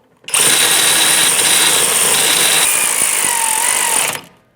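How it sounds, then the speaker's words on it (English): An electric ratchet snugs up the rear brake caliper bracket bolts on a 2012–2018 Nissan Altima, giving one loud, close, steady motor whine of about four seconds with a slight pitch shift midway before spinning down. "Now I'm just going to take my electric ratchet, snug them up before I torque them."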